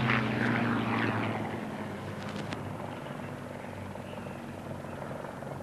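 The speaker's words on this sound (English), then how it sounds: "Mark 9, flown by OC 11 Group Air Commodore Cliff Spink." A Mark 9 aircraft flies past during a 1994 D-Day commemoration over the Solent, with a steady propeller-engine drone that is loudest at first and then eases to a lower, even rumble.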